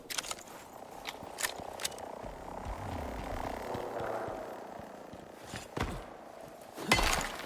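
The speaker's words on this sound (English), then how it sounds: "this drone's going to be shooting at my Raptor in a second" A hostile drone in the survival game Icarus drones and hums at a distance, its engine sound rising and falling faintly against a quiet outdoor background with a few sharp knocks.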